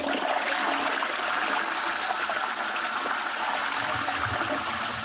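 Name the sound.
toilet flush played in a voice note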